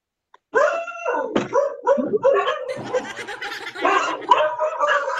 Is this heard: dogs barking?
yes